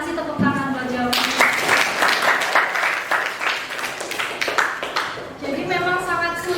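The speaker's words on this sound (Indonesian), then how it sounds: "Kasih tepuk tangan buat jawabannya." A classroom audience of students claps for a pupil's answer in a lesson, a burst of quick, dense applause lasting a few seconds, with a teacher's voice heard before and after.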